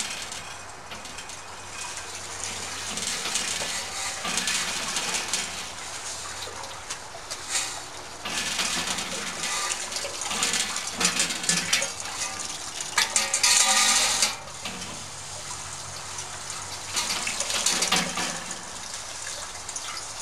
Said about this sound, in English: we're going to use to rinse off the grains